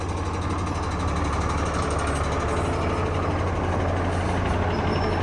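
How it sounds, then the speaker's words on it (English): A 1966 truck engine idles in a steady low rumble at close range, continuous and even throughout with no talk. "This is a cool old truck."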